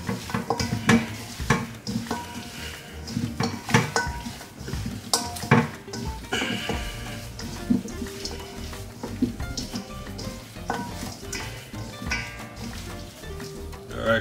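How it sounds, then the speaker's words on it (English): Curry chicken is stirred in a pot, with a spoon clattering and scraping against the metal in quick irregular knocks over a soft sizzle, close by. "we're gonna mix it up again"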